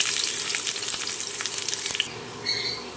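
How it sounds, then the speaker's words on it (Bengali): Dried red chillies and chopped onion fry in hot oil, a steady close sizzle with crackling spits and a brief stirring scrape near the end, no talking. "শুকনো লঙ্কাটা একটু লাল করে ভেজে নেব"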